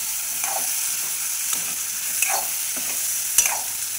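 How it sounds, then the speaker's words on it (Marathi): Eggplant curry with black masala, bay leaf and coriander fries gently on low gas, a soft continuous sizzle broken by several quiet scraping stirs of a spoon in the pan. "वांगी सोडायची त्याच्यात, कोथिंबीर टाकायची त्याच्यात. कमी गॅसवर हलवत राहायचं."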